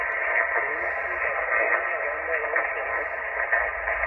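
An amateur radio station comes in over a portable transceiver at an outdoor park activation, a distant operator's voice heard through narrow, band-limited radio audio with a constant hiss underneath.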